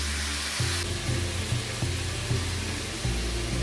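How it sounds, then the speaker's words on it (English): Masala frying in a separate pan on a gas stove, a steady broadband sizzle with a faint regular low hum pulsing underneath and no talking. "we will fry the masala in the separate pan"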